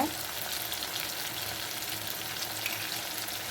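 Tomatoes sauté in hot oil for a brinjal curry, giving a steady, close, dense sizzle and frying hiss that continues evenly throughout with no talking.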